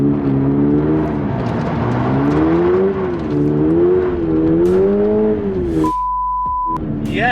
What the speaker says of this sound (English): see if we can kick a little drift around this corner here